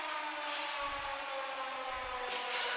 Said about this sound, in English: The siren starts off the game here on this Sunday afternoon.